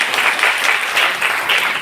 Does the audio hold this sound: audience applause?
yes